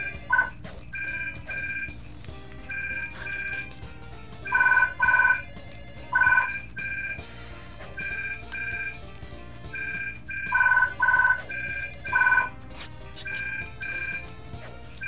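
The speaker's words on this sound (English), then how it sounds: "And the phone's ringing, so you know what it means." A phone rings in the Phineas and Ferb DS video game, playing a repeating chirpy electronic ringtone in short patterned bursts over game background music, with no talk.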